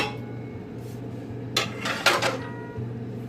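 A flat pan or baking stone set down and handled in a home kitchen while making spinach tortillas, giving a few short metallic clanks near the middle over a quiet background hum.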